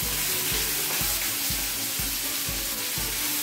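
Green and red chillies fry in a hot dal tempering with garlic paste and ginger, a loud continuous sizzle with a rhythmic stirring scrape about twice a second, close and alone.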